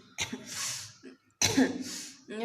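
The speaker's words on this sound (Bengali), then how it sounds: "ওপরে কাশি চলে আসছে।" Two harsh coughs close to the listener, separated by a brief pause, each followed by a short breathy tail.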